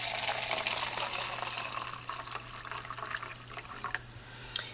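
Water runs steadily from a tap into a watering can for houseplant care, a close, continuous hissing gush that eases slightly as the can fills.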